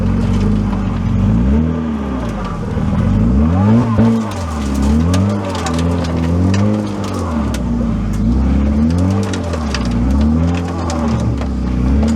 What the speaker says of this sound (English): this thing's pulling itself through the mud